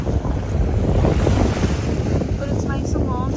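Choppy sea waves churning under strong wind at a Turkish beach resort, a loud continuous wash of surf with heavy wind buffeting the microphone.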